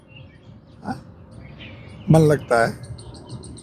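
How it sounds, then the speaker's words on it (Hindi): Short bird chirps or a squirrel's call in an outdoor exercise spot, a faint call near the start followed by two louder bursts close together, with someone speaking quietly beforehand. "और या तो चिड़ियों की आवाज़ है या गिलहरी की है।"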